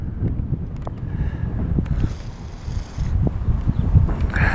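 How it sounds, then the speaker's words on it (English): Strong gusts buffet an outdoor microphone, a loud, rumbling low roar that swells and dips throughout with no clear voice over it. "there's a lot of wind"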